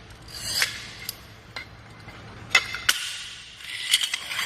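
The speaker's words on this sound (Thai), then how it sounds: "ต่อไปเป็นตัดกระเบื้องนะครับขีดกระเบื้องเลย" A cutter scores across ceramic tile in several short, sharp scratchy strokes, close up, with quiet pauses between them.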